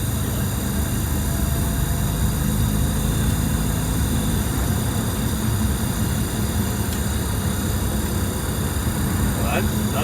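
Detroit Diesel 6V92TA engine in an Eagle bus drones loudly and steadily on a test drive after a cold start, a continuous deep rumble that carries on throughout with little change in level, while people talk over it.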